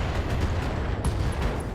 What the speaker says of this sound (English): And there are some explosions going around.